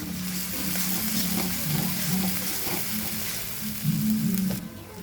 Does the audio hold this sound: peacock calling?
no